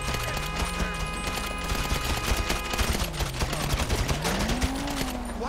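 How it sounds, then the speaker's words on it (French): Rapid automatic gunfire in the video game GTA V, a dense, loud, continuous rattle of shots throughout, close up, with a low engine-like hum rising and falling beneath it. "Qui me tire dessus par derrière"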